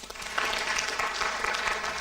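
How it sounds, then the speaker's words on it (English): Brief burst of audience applause for a Madam President at a Women's Day celebration, dense steady clapping throughout a short moment. "Can we have another round of applause for her?"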